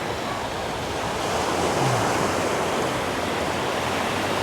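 Ocean waves wash steadily onto the shore at low tide, a continuous broadband roar with mild wind noise and no clear breaks, close and fairly loud.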